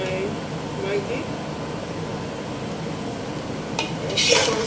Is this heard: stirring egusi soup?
yes